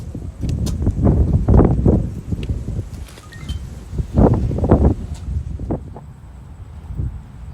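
Gusty wind buffets the microphone outdoors at Mystery Castle in uneven rumbling bursts, with faint rustling and an occasional light clink in the background.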